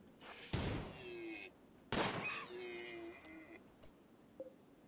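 Two sharp gunshot bursts from colonists firing in the video game Rimworld, each a loud crack followed by a short ringing tail, with faint clicks in between and no talking.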